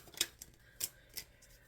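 Tarot cards shuffled by hand, giving three or four crisp papery riffles and snaps at uneven intervals, close and fairly quiet with no talk.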